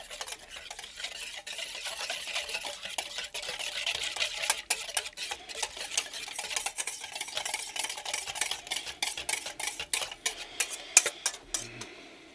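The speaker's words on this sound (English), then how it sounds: "whisk it all together." Chex mix seasoning is whisked together in a bowl, giving a run of quick clicking, scraping strokes against the bowl that grow busier and end with a few sharper taps.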